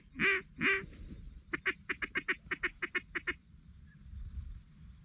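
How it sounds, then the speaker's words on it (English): Ducks on an Alberta waterfowl hunt calling from nearby, with two longer honking calls followed by a rapid rhythmic series of about a dozen quacks, moderately loud over quiet outdoor background. "Lots of ducks."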